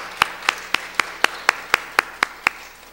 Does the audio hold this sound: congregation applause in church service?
yes